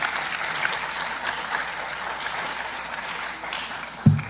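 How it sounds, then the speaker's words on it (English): A round of applause for team members fills a colloquium hall, steady crowd clapping sustained throughout, ending with a brief louder thump near the close. "let's give, my team members a round of applause"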